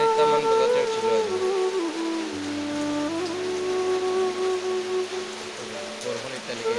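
Heavy, unrelenting rain falls around a rural house during flooding, a steady broad hiss throughout with a low tonal drone beneath and some faint background voice.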